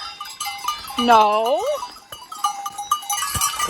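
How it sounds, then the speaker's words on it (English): Bells clank and jingle on a goat herd in an alpine meadow in the Dolomites, Italy, with a nearby bleat partway through, while a hiker talks briefly over the scattered ringing. "Just walking with the goat herd"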